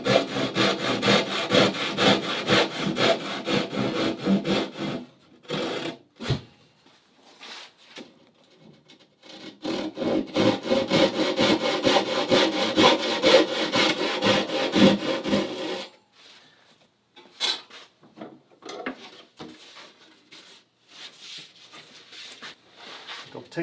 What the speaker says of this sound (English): I'll take this over to the other bandsaw to cut it out. I've got a finer blade on it.